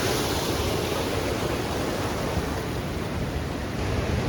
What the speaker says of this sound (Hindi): वहाँ पर से काली नदी का इतना ज़्यादा बहाव है कि रोड के ऊपर से ही पानी आ रहा है